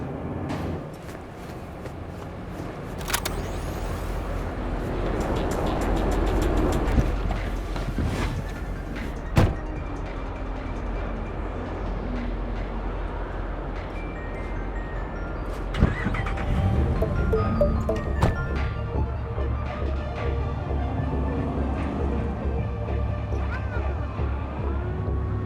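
Car driving in Cyberpunk 2077, a steady low engine rumble running through the whole stretch with a few sharp door-like knocks and clunks, and faint speech now and then.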